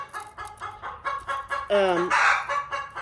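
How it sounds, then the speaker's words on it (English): Chickens cluck and squawk loudly nearby, with one rising, strained call cutting through the steady clucking of the flock. "my theory on this squawking is typically when they start that"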